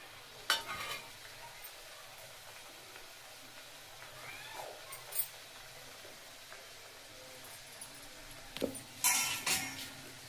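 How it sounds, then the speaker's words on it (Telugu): Sakinalu, rice-flour spirals, deep-frying in oil: a soft, continuous low sizzle with a few clinks and scrapes of a utensil against the pan, faint and close. "తీసుకున్న దానిని డీప్ ఫ్రై చేసుకోవాలి నిదానంగా మెల్లగా నూనెలో వేసుకోవాలి"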